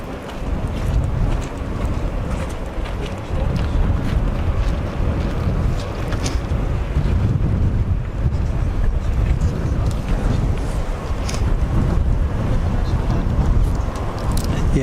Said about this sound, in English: That's a pretty chunky crosswind.